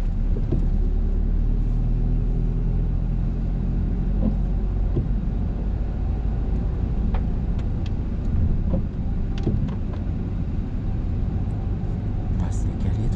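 Car pulling away from a stop during a driving lesson, a steady low engine rumble rising under continuous road noise, with an instructor speaking throughout.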